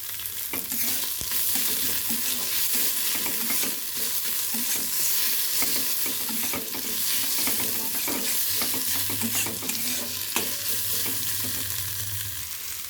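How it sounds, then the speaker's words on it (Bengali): Cumin and spice paste frying in a pan while being stirred, with a steady close sizzle and repeated scraping strokes throughout, no voices. "এটা জিরে আবার পেস্ট দিয়েছি, ভালো করে কষে নেব।"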